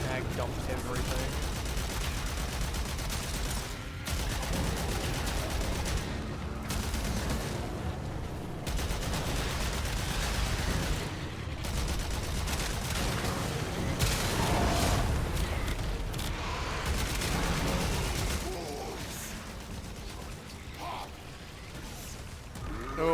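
A magazine emptied at a boss in Warframe: sustained gunfire and heavy booming shots, steady and fairly loud, with someone talking over part of it and game music and effects underneath.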